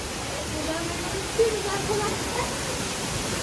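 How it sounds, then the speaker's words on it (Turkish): Standing beneath Düden Waterfall in Antalya, a steady broadband rush of falling water fills the space, continuous and even, with a faint voice briefly audible in the middle. "şelalenin altındayız resmen şu an"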